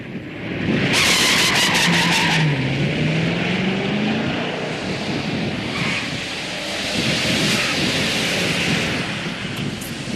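A muscle car launches at a drag strip at about 3,000 RPM and breaks its tires loose, giving a loud, continuous roar of engine and tire spin with a sweeping engine tone and no talk.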